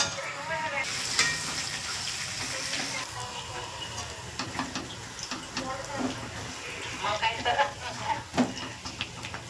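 Garlic frying in oil in a pan, a steady close crackling sizzle with scattered pops and light stirring taps, a voice speaking over it at times.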